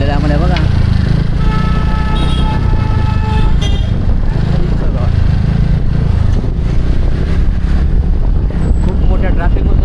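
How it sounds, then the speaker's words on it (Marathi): Heavy road traffic on a motorcycle ride from Mumbai toward Lonavala: loud, constant engine and wind roar, with several car horns honking close by in the first half. "खूप मोठ्या ट्रॅफिक मधून आम्ही निघालो तेवढ्यात"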